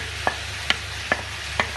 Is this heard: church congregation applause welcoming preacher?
no